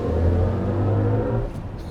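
A BMW i5 Touring electric estate accelerates in boost mode with a low, droning synthetic hum and rising tonal whine from inside the cabin, brief and steady before easing off.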